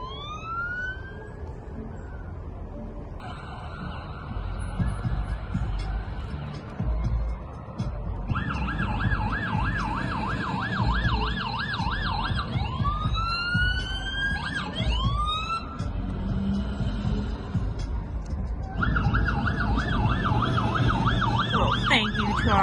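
Sirens from a fire truck, ambulance and police car at a Halloween pumpkin display in Milton, Ontario, wailing and yelping in overlapping rising and falling sweeps over steady road rumble, fairly near and continuous.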